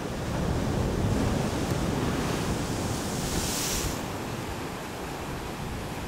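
Ocean waves breaking on a shore on Réunion, a steady loud roar of surf with wind rushing across the microphone, continuous throughout with a brief hissing swell in the middle.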